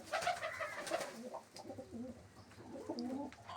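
Pigeons coo in soft, rolling phrases, several overlapping calls close by, rising and falling in a gentle rhythm with no talking.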